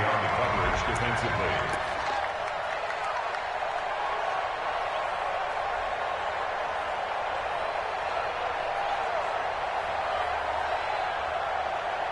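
Stadium crowd roar from a PS4 football video game, a loud sustained wash of cheering and noise that holds steady throughout, with some brief claps and thumps near the start.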